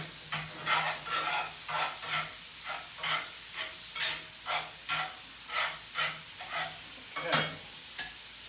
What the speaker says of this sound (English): Browning that chopped meat up, got that flavor in there.